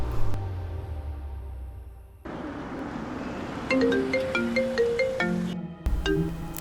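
A phone ringtone for an incoming video call plays a repeating melodic chime over low background hum, after a brief stretch of rumbling ambience, fairly loud and close.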